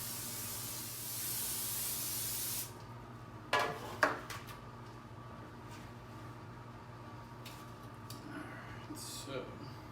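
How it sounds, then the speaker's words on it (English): Cooking spray hissing onto a baking pan lined with a silicone pad while preparing a devil's food chocolate birthday cake, a steady spray of about two and a half seconds followed by a few light pan clinks. "you still want to give it a nice little spray so it releases easily"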